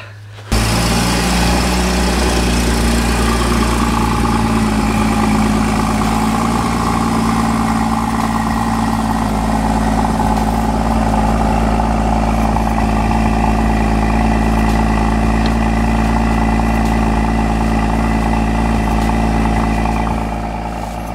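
A Porsche Boxster Spyder's naturally aspirated 3.8-litre flat engine idles steadily and close, a deep, even rumble that starts abruptly and holds for about twenty seconds with a faint mechanical whir on top, no talk.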